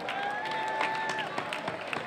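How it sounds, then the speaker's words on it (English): A crowd at a Fourth of July parade in Aurora claps for the city's centenarians and senior citizens, steady close applause with a whistle-like tone running through the first half. "Please give a round of applause for our centenarians"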